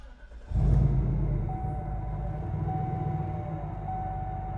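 A Cadillac Northstar V8 cranks and fires up close by, then settles into a deep, loud, rumbling idle with a steady exhaust burble.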